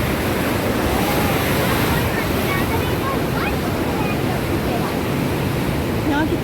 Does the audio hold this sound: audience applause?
no